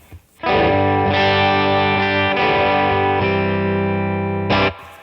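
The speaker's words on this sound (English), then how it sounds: "All the mids show up in force when you're really pushing a Deluxe Reverb" An electric guitar plays through a pushed Fender Deluxe Reverb amp with a woolly boost pedal. Loud, sustained, mid-heavy distorted chords ring out with a short restrike near the end, and there is no talking.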